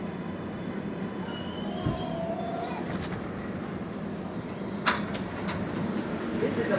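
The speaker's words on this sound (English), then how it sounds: "This is a Bowling Green bound 4 express train." An R142A 4 express subway train rides along, a steady loud rumble of wheels and car noise with occasional squeals and clanks as it rolls through the tunnel.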